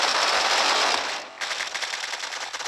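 Rapid automatic gunfire in the shooter game Bullet Force rattles in a dense, loud burst, breaks off briefly, then resumes as quicker, choppier shots.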